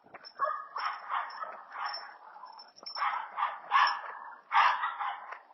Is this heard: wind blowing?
no